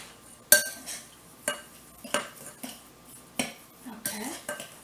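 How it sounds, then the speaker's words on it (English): Brown sugar being stirred into white sugar in a mixing bowl for a scratch chocolate layer cake, a spoon scraping and clinking against the bowl in repeated short strokes, close and moderately loud, no voices. "Loosen it up a little bit and mix it in with this white sugar."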